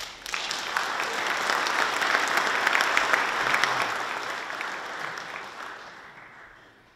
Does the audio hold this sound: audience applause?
yes